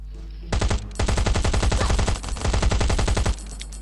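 Rapid automatic gunfire in the survival video game Last Island of Survival, loud bursts of quick shots repeating for about three seconds with a brief pause midway.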